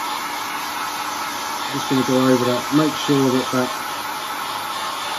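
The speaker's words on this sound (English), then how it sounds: "This is just a household hairdryer." A household hairdryer blows steadily and loudly while drying paint on a lightsaber hilt, with someone talking briefly over the constant whir.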